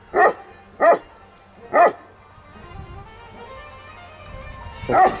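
A large stray Kangal dog barks four times, loud and close, in evenly spaced deep woofs with a short quiet stretch before the last one.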